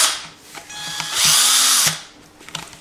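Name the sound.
power drill drilling a hole in a bottle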